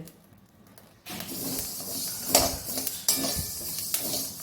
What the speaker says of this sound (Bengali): এগুলো কি সুন্দর ফুটছে ফুটফুট ফুটফুট করে